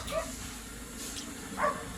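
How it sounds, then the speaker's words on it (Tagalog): A Doberman gives a couple of short, yelping barks at a scrap-metal junk shop, soft and somewhat distant, with light background noise. "Oh, may Doberman pa guys, aso."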